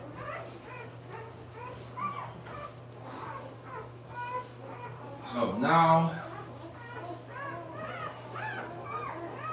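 Newborn puppies whimpering and squeaking in a pile at a dog breeder's, a string of thin high cries close by, one louder yelp midway, with someone talking over them.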